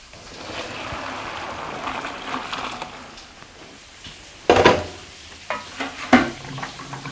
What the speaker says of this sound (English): We'll strain our rice noodles.